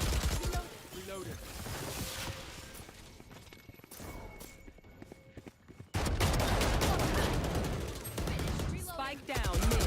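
Spectre submachine gun bursts in a tactical shooter game, rapid dense volleys of gunfire with crashing impacts, loud and close, with a voice talking over parts of it.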